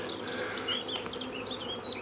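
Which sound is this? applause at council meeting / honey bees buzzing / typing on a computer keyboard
honey bees buzzing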